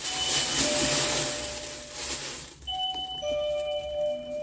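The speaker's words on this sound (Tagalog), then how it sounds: "Nakakagulat ang bell." Doorbell chiming in a home, a few sustained clear tones sounding close and loud after a burst of hissing noise, ringing out alone with no talk.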